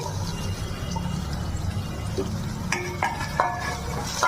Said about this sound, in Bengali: বেগুনগুলো হালকা করে ভেজে নেবো আলুর সাথে